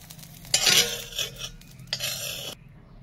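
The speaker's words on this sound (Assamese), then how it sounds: "এতিয়া এয়া সয়াবিনখিনি দি ধুনীয়াকৈ এই ঘোলখিনিৰ লগত মই মিক্স কৰি দিম" Fried soybeans stirred into a gram-flour batter base in a pan, a couple of bursts of wet scraping and mixing up close, with brief pauses between strokes and no voices.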